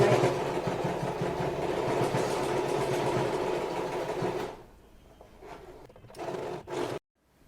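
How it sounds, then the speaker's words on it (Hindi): A sewing machine makes long running stitches on a small quilt for Laddu Gopal's bed, a loud steady whir that cuts off midway, followed by a couple of short bursts. "तो मैं यहाँ पर लंबी लंबी सिलाई लगा रही हूँ।"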